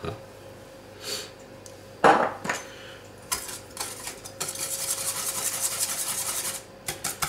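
A spoon stirring sugar and cream in a bowl for a rhubarb tart, scraping and rubbing strokes against the bowl in uneven bursts, growing into a steadier, busier run of close, crisp scraping.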